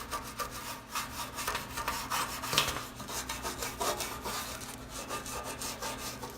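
A nylon toothbrush scrubs a stove's nooks and crannies, giving a steady run of soft, rhythmic bristle rubs and scratches close up, with no talking.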